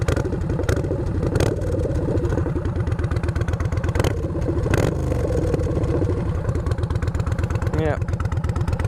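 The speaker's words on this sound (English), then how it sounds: "Get a little, just a tiny little rev." A cafe-style 2015 Yamaha Bolt motorcycle engine runs close by with a dense, steady low rumble and slight rises as it is revved, occasional clatter on top, continuous through the whole stretch.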